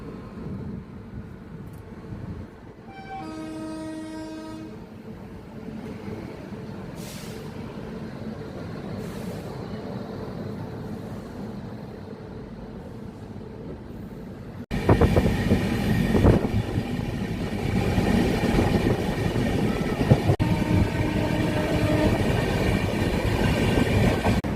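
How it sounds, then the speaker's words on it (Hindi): Duranto Express passenger train running at speed while overtaking the South Bihar Express, a continuous loud rumble with clickety-clack wheel beats and squeals, growing louder and harsher about two-thirds through. "यहाँ पर हम लोग ओवरटेक कर रहे हैं train number 13288 south Bihar express को"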